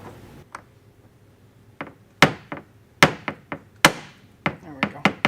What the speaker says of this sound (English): punch with your hammer, knock the core out